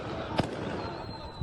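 Gunfire in Khartoum, a single sharp distant crack standing out over a steady murky background rumble, faint and brief.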